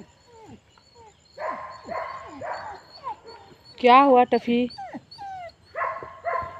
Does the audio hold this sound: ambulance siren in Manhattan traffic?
no